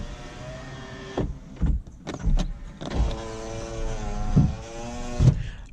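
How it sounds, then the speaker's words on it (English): The one-touch power window of a 2006 Toyota Fielder wagon runs with a steady whirring electric motor hum for several seconds, broken by clicks and thumps of the switch and glass, heard close inside the car. "all 4 windows are one touch up down"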